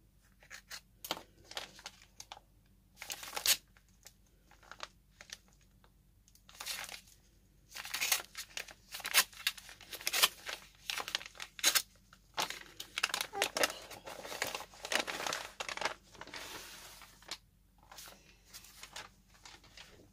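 Close crinkling and tearing of tape and packaging on a parcel being opened with scissors, in irregular bursts, with brief snips and rustles between quieter pauses.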